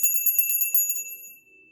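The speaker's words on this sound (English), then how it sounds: "Let's ring our bell" A small ringing bell struck several times in quick succession, clear and close, its bright metallic tone then decaying into a fading ring with no talk.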